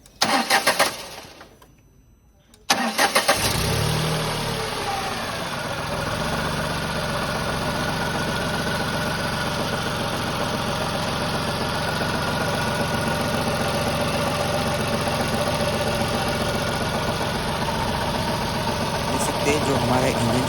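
A Tata Revotron three-cylinder petrol car engine, repaired after a misfire fault caused by a broken VVT sensor socket, cranks briefly after a short pause, catches and settles into a steady, even idle close by for the remaining stretch.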